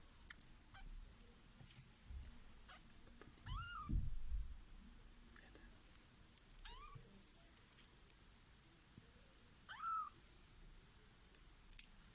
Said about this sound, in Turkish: Minnacık bir kedi.